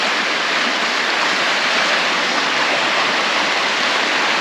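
A river in the Arctic rushes in a loud, continuous broadband roar of flowing water, steady and close with no voices.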